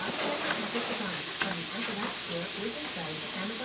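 Vegetables sautéing in a pot, a continuous hissing sizzle throughout with a voice talking over it.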